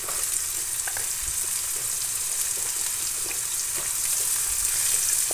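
Onions frying in a pan for tempered mung dal, a steady broadband sizzle with faint stirring clicks, continuous and fairly quiet throughout, with no voices.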